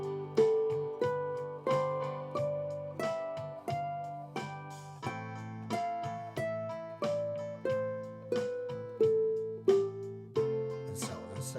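Ukulele plucking the Mixolydian scale one note at a time, climbing up and then descending, each picked note clear and evenly spaced against a few accompanying tones, played alone without speech.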